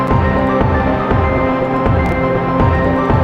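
A dense, loud synth bass part plays in a dungeon synth arrangement built with Kontakt libraries, a filter thinning its lowest end while sustained tones and a steady pulse continue without pause.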